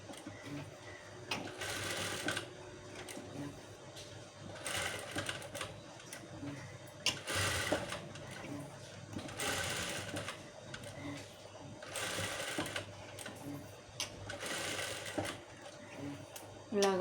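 Sewing machine stitching small buttonholes on a blouse, steady close mechanical whirring in repeated runs of several seconds with brief pauses between, someone occasionally speaking over it.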